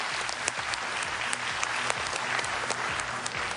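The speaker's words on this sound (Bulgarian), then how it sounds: "аплодисменти за Ники Илиев, моля" A large audience at a talent show applauds for Niki Iliev during a magic act, a continuous even wash of clapping from many hands at a moderate distance.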